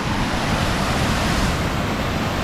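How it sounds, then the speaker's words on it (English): Heavy water pouring over Punchbowl Falls in New South Wales after rain, a steady, dense roar of falling water that stays constant and loud throughout with no voices. "just the sheer amount of water coming over there is amazing at the moment"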